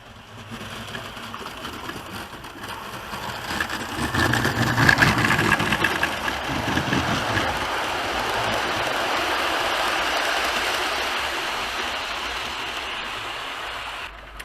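Model railway locomotive 6233 hauls a load of eight carriages up a gradient on a layout, giving a continuous motor whir and rolling rumble that swells and holds steady, with no voices.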